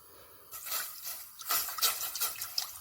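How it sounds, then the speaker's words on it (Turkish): Milk poured into a pot on the stove while making homemade labneh cream cheese, a soft continuous trickling stream starting after a brief quiet moment and running steadily, close and moderately loud. "Sütümüzü içerisine koyuyoruz"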